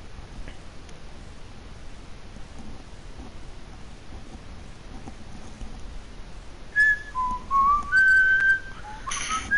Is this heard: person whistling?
yes